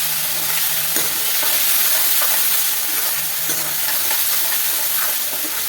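Potatoes fry in a pan with tomatoes, green chilies and salt. A steady, loud sizzle runs throughout, with occasional soft scrapes as the mixture is stirred.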